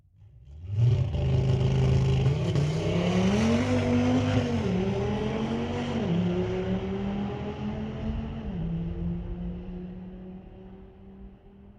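A car launching at a street-legal drag race strip, its engine roaring loud and near as it climbs through rising gear changes, then fading steadily into the distance.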